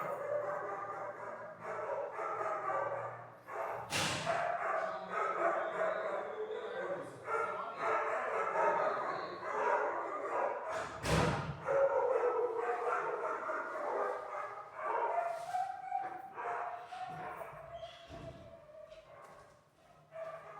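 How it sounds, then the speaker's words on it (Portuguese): Several of the neighbors' dogs barking and yipping repeatedly nearby, irregular bursts of barks continuing throughout, with people talking over them. "O vizinho na frente tem muito cachorro"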